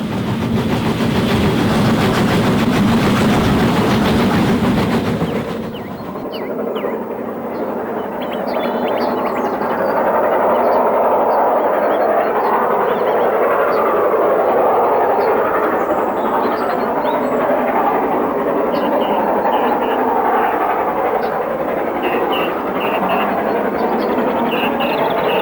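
A running steam locomotive, the Flying Scotsman, heard up close, a loud rumbling roar with rhythmic clatter, shifting after a few seconds into a steady heavy churning exhaust blast that continues throughout.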